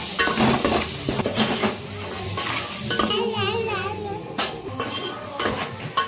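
Curry stirred and mixed in a pot after rock salt and chilli powder are added, for a birthday meal; a spoon scrapes and clatters against the pot in steady strokes over a faint sizzle, with brief bursts of background voices and music.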